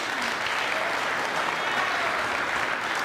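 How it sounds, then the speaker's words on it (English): Applause fills a gathering at a protest-related event in Kenya, a dense continuous clapping from a crowd at moderate level with no pause, heard alone. "Please, let's give them a round of applause."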